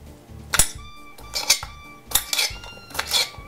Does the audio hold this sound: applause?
no